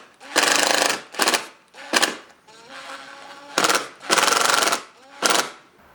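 Screws driven into a wood surface to mount a Nest Hello doorbell, heard as close, loud bursts of power-drill whirring that stop and start about six times in quick succession.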